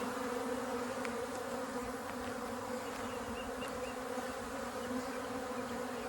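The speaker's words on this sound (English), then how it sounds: "you should get bees that are fanning" A honeybee swarm just shaken into a hive box gives a dense, steady buzz. The drone of many bees holds even throughout, moderately close, with no voices.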